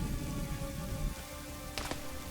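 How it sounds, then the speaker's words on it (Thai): Heavy rain pours steadily in the Zombies War video game, a dense, continuous wash of noise throughout with a brief brighter splash or impact near the end; no talk. "ฝนตกหนักมากตอนนี้"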